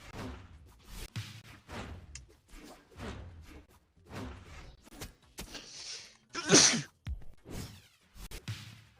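A single abrupt, forceful sneeze bursts out near the middle, loud and close, amid stretches of muffled, low-level talking and a few soft thumps.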